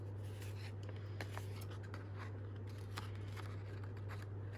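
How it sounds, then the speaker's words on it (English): Scissors trim the paper edges of upcycled receipt snippets with a few faint, brief snips and rustles. A steady low hum sits underneath throughout. "The bits on the tags or on the snippets I will trim off."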